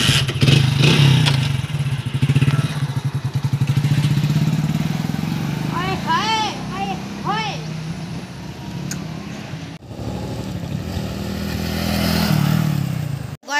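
A motorcycle being ridden hums with a steady low engine drone and some rattling close by, while people talk over it throughout.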